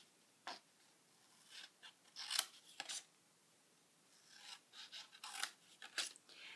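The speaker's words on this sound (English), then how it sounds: "So on each side of the little flaps, cut up those score lines." Scissors make short, quiet snips through the score lines of a paper gift box, a series of separate cuts with brief pauses between them, close and alone.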